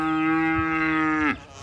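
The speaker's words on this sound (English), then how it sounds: "Yeah, it's like a very light moo." A cow gives a single soft, drawn-out moo that holds steady for over a second and then breaks off, close and clear against a quiet background.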